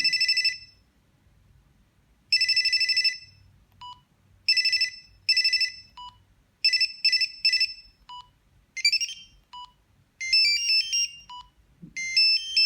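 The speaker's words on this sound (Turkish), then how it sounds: "Ses ayarı zil sesi." A phone plays through several short electronic ringtone melodies, one after another, with brief pauses between each bright chiming pattern.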